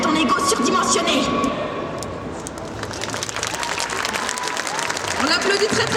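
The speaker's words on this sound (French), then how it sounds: "On l'applaudit très très fort." An audience at a Japan pop culture cosplay show in Mons breaks into sustained applause that swells and fades over several seconds, mixed with crowd noise and overlapping speech.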